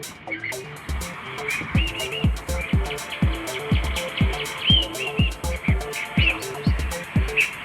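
Wild birds chirp and tweet busily among the flowering plants of a traditional Kerala house garden in Manjeri, many overlapping calls and whistles, some close and some farther off, with no talking.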